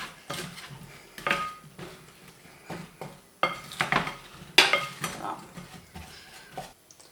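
Sliced apples tossed with cinnamon in a bowl, several bursts of close wet mixing and scraping with light clinks of utensil against the bowl, separated by short pauses.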